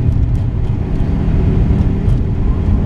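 A modified 2007 Subaru STI drives along a road, its engine and road noise forming a steady, loud, low rumble heard from inside the car with no pauses.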